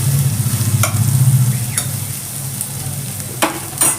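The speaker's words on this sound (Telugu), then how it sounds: "మంచిగా ఈ ఉల్లిపాయ కాస్త బాగా వేగాలి." Onions and fennel seeds frying in a pan, giving a steady bright sizzle throughout, with a few soft clinks and stirring scrapes on top and no talk.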